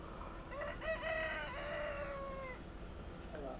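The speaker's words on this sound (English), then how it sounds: "Yes, Cockerel." A cockerel crows in the farming game Professional Farmer, one long rising-then-falling cock-a-doodle-doo, clear and fairly close, over a steady faint background hiss with no talking.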